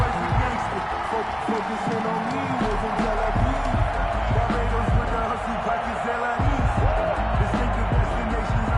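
A stadium crowd at a football game rumbles and cheers steadily throughout, a broad sustained roar with a commentator talking over it.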